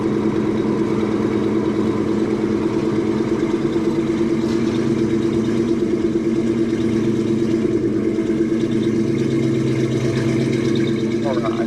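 A 1987 Chevrolet Blazer four-wheel drive with a throttle body injected 350 V8 and 700R4 transmission runs steadily, a loud, constant engine drone heard from inside the cab.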